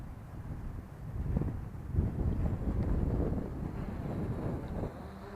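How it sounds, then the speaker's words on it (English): Steady wind buffets a hat-mounted camera microphone outdoors, a continuous low rumbling roar with gusty swells throughout, loud and close, with no talking. "that wind's picking up. I'm sure you can hear it in the microphone of this hat cam here"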